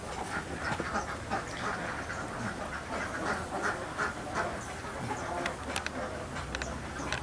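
Ducks in a pen at a duck farm, a dense, steady chorus of quacking filling the air, continuous and fairly close with no talk over it.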